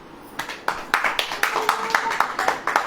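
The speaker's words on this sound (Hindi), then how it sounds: "ताली बजाओ" Clapping from an audience at a religious gathering comes as scattered, fairly sharp claps in an uneven rhythm, some loud and close, without building into full applause.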